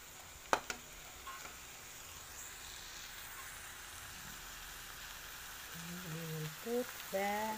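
Shrimp and pineapple slices cook in a pan with a soft, steady frying hiss close by. A voice speaks over the sizzle near the end.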